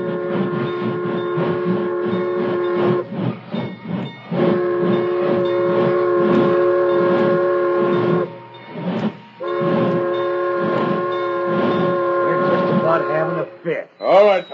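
A train rumbles and clatters with its horn sounding in long repeated blasts, the motion slowing and fading toward the end as it comes to a stop, from an old radio drama.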